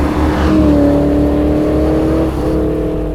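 A V8 engine in a convertible holds a steady, loud rev with a strong low rumble and a rising whine, easing off briefly near the end.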